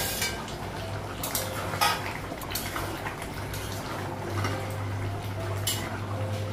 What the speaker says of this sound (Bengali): আর একটু ঢাকা দেবো, ঢাকনাটা উঠাবো।